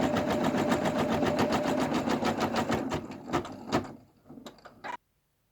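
An embroidery machine stitching a keychain, with a fast regular needle chatter that runs loud and close, then breaks into slower separate clunks before stopping abruptly.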